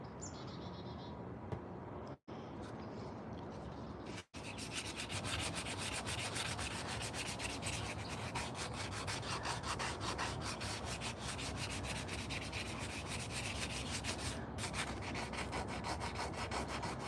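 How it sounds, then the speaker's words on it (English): Steady, continuous scratchy rubbing of sandpaper on wood, close up and sustained throughout, with two brief pauses near the start. "I want to finish sanding this"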